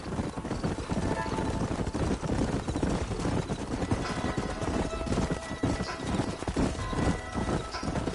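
Horse hooves clip-clop steadily and continuously over a canyon trail in the video game Red Dead Redemption, several horses moving together with a constant rumbling background.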